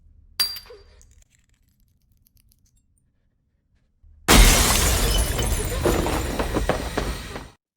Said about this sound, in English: the wine in the glass container shattered inexplicably